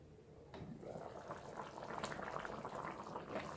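Mutton rezala simmers covered over a low flame, making a soft, quiet, continuous bubbling that grows slightly busier as it goes.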